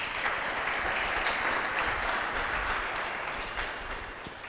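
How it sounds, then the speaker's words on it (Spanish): A church congregation claps loudly for the Lord during a sermon, a steady dense wash of applause that holds strong for several seconds before easing slightly at the end. "¿Por qué no le das un fuerte aplauso al Señor?"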